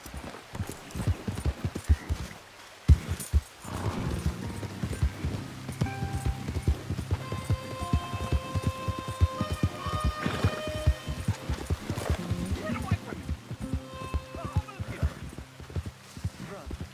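Horse hooves clip-clop at a steady galloping rhythm through a Red Dead Redemption 2 game scene, loud and close, with music and brief speech layered over the hoofbeats.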